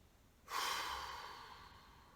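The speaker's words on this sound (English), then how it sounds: "I'm going to take a deep breath in." A single deep inhale during a standing back stretch, starting abruptly after a moment of quiet and holding as a long, airy rush that slowly fades, close and fairly loud with no talking.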